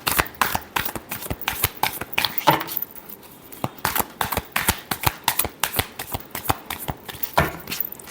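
Tarot cards being shuffled by hand in a steady series of quick, crisp riffling snaps, close and clear, repeating with short pauses and no speech over them.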